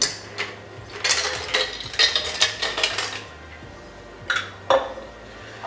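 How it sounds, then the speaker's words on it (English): Ice cubes are dropped into a cocktail glass, making close, bright clinks and rattles in a busy cluster, then a few separate knocks near the end. "Then we're going to add the ice in."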